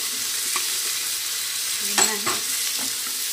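Onions and mixed vegetables for khichdi fry in a pan with a steady soft sizzle, punctuated by a few stirring scrapes, close and fairly quiet, with a brief spoken phrase.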